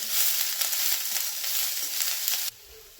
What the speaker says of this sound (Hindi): वेजिटेबल्स यहाँ पे सॉटे हो गए